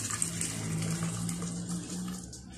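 Water pours steadily into a pot of Kabuli pulao, Afghan Uzbek-style rice cooked in yakhni stock. It makes a continuous, close gushing splash with a low hum underneath and no talking.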